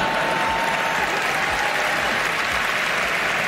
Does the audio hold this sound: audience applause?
yes